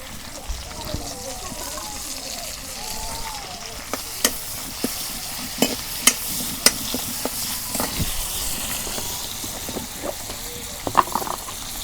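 A spoon stirs a curry of dekeriya and telakucha greens with eggplant and dried fish in a pan. A bubbling sizzle runs throughout, with scattered sharp clinks of the spoon against the pan and faint voices in the background.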